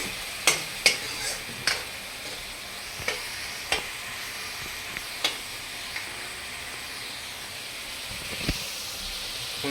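Mutton curry ingredients fry in a pan with a steady soft sizzle and hiss, broken by sharp scraping taps of a spoon stirring against the pan.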